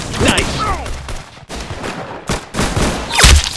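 Gunfire in the Roblox game Arsenal: several loud bursts of game gunshots, with the sharpest crack near the end, heard over busy game effects and voices.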